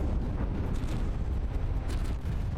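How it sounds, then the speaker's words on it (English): APS shells fire from warships in a From the Depths battleship battle, making a continuous deep rumble of overlapping booms that swells briefly a couple of times and never falls silent. "The APS shells we're firing here, they have a tendency to miss due to the Rollo's maneuverability."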